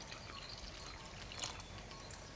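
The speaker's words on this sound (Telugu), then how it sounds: "200 గ్రాముల చింతపండు ఒక అరగంట ముందు నీళ్లు పోసి నానబెట్టుకుందామండి" Water is poured over 200 grams of tamarind in a bowl to soak it, a faint, steady trickling splash that stays quiet and even throughout.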